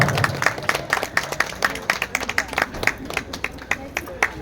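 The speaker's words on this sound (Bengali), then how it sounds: "জোরে করতালি হোক একবার" Audience clapping at an outdoor fair stage in Agartala, a steady run of sharp, evenly spaced claps throughout, fairly close and moderately loud, with a low hum of crowd underneath.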